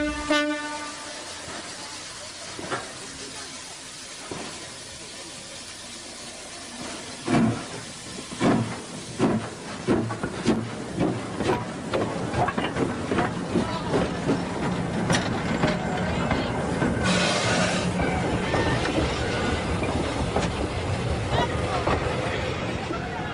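Train number 58 pulls up to and starts across the Kinzua Bridge, its horn sounding long blasts at the start before a rhythmic clatter of wheels over rail joints builds into a loud rumbling roll.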